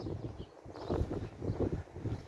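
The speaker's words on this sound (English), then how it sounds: "pretty windy." Gusty wind buffets the microphone in uneven low rumbling surges, steady and close, with no voices.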